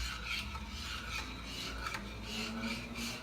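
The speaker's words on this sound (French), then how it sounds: "Donc je vais toujours rester à touiller. Vers la droite, vers la gauche." A cream cooking in a pan is stirred back and forth, with continuous rhythmic scraping strokes that are close and fairly quiet, and no one speaking.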